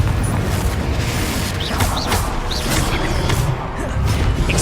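The Confringo fire spell in Hogwarts Legacy explodes in loud, booming blasts, several crashing impacts with whooshing bursts in quick succession and a rumbling, dense low end throughout.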